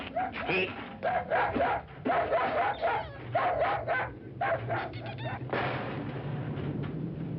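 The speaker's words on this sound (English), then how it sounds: "tell him to take that howling mutt with him" A dog barks and howls in a rapid, repeated series of loud yelps, heard close, with a low steady hum underneath.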